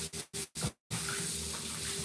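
Tap water runs into a sink while sea moss is washed, cutting in and out in short bursts before settling into a steady, close stream.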